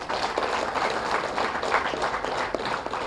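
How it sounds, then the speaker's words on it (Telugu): An audience at a youth talk on service claps together in dense, steady applause that fills the whole stretch, with scattered sharper individual claps standing out and no talking. "సరే, గట్టి క్లాప్ చేద్దాం."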